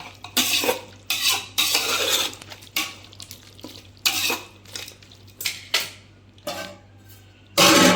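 Mutton pulao with mint is stirred in a pot. A spoon scrapes and clanks against the metal in repeated bursts, with faint sizzling between strokes and a louder clatter at the end.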